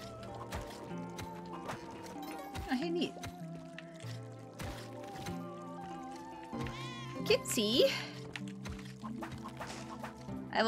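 A cat meows in the Spelunky 2 video game, a few brief calls mixed into game music and effects, while a person talks over the action.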